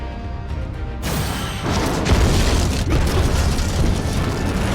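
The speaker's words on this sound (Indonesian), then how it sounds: "Dan benar saja, ledakan besar terjadi." A massive explosion in a game roars continuously, a dense rumbling blast with crackling debris and deep booming low end, loud and close throughout.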